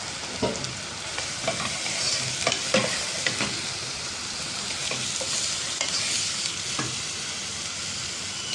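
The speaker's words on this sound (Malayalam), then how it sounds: "വെളുത്തുള്ളിയും ഇഞ്ചിയും പച്ചമുളകും കൂടെ ചതച്ചത്, പിന്നെ 2 കരിവേപ്പിലയും ഇതും കൂടെ നമുക്കൊന്ന് നല്ലവണ്ണം വഴന്ന് എടുക്കാം" Crushed garlic, ginger, green chili and curry leaves sautéing with meat in a hot pan, a loud continuous sizzle with repeated scraping stirs of a spoon throughout.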